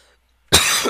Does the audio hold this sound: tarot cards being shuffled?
no